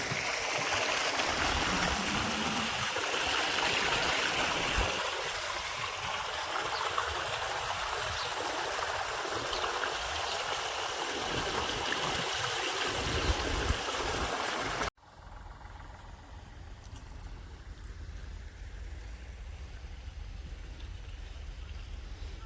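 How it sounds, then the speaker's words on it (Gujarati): Steady irrigation water flows loudly and continuously into a sorghum field from a motor pump, then drops abruptly to a quieter, lower gurgling flow partway through. "તો જાહેરમાં પાણી હાલે છે"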